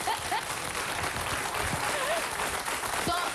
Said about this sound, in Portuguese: Então palmas para a gente.